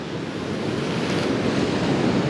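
Steady roar of ocean surf on the shore at Brother's Point on the Isle of Skye, a continuous wash of waves mixed with wind on the microphone, fairly close and building slightly.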